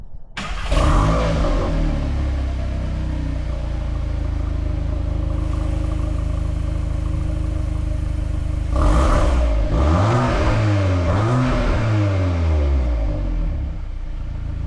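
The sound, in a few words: 2025 Volkswagen Golf R engine and exhaust in Sport mode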